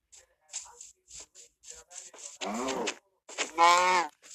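Several short animal calls sound against a quiet background, then two longer, louder lowing moos close by, like cattle in a game.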